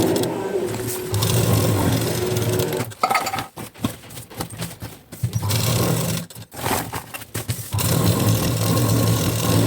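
A sewing machine quilts a rice sack layered with the main fabric piece for a homemade bag, running as a loud, steady whir with a few brief stops and restarts.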